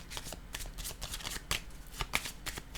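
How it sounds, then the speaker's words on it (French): Tarot cards shuffled by hand in a quick run of crisp riffling bursts, close and fairly quiet, with no talk over them. "je vais piger une carte ici pour voir"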